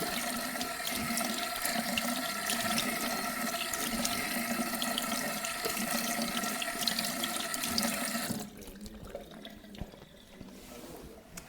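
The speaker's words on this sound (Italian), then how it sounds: "sciacquiamo abbondantemente" Tap water runs hard and steadily into a sink during abundant rinsing, a dense close splashing rush that cuts off abruptly, leaving faint drips and small knocks.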